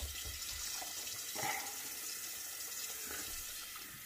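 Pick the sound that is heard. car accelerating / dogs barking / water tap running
water tap running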